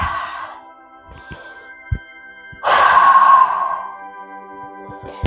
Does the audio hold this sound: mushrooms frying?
no